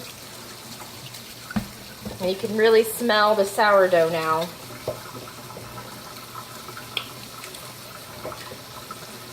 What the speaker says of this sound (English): Let that water run through real good.